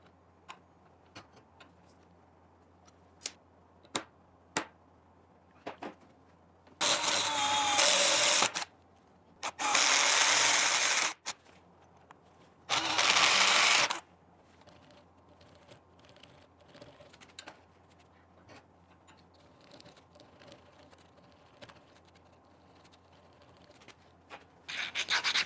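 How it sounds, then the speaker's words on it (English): Three loud bursts of a power drill boring plug weld holes through a steel gear shifter sleeve for a 1960 Auto Union 1000SP, each lasting about one to two seconds with short pauses, amid quiet workshop ticks and clicks. "next I need to locate where I'm gonna drill my plug weld holes in the sleeve"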